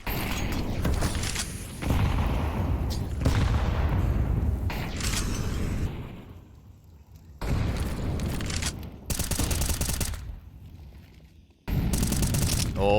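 Counter-Strike 2 gunfire from a competitive esports match, with players shooting through walls: loud bursts of rapid shots and booms broken by quieter gaps, resuming abruptly near the end.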